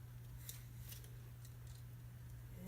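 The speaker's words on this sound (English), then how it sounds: "let's see if I can cut that, if I can find my scissors" Scissors snipping craft material for a homemade Christmas centerpiece, several quick faint crisp cuts spaced through the clip over a steady low hum.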